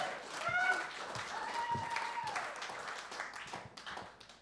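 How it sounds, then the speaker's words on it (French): Audience applause in a theatre during a live show, moderate clapping that tapers off gradually, with voices and brief tonal sounds mixed in. "On l'applaudit!"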